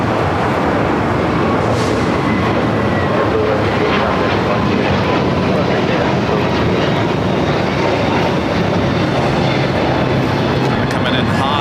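An airplane comes in to land at LAX, its dense, roaring broadband noise sustained and loud throughout without letup.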